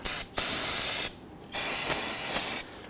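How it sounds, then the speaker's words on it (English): Solvent spray cleaning residual brake fluid off a caliper while replacing the front brake hoses on a 2010-2019 Ford Taurus: three loud, steady hissing bursts of aerosol spray, close up, with short pauses between them and no talking. "Go ahead and give this a spray with some solvent."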